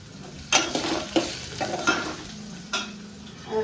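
Diced potatoes, curry leaves and green chillies fry in a pan for sabudana khichdi, a soft steady sizzle punctuated by several distinct spatula scrapes and stirs against the metal, close up.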